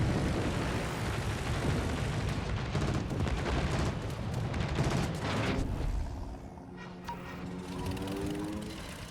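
Jet engine roar of a fighter plane taking off from a carrier in the World of Warships naval game, a loud sustained rumble with sharp crackling bursts that fades and thins toward the end.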